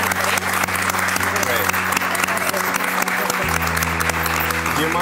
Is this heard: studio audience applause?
yes